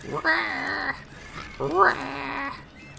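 Two drawn-out, shrill creature screeches with a warbling, cat-like tone, one after another with a short pause, loud and close.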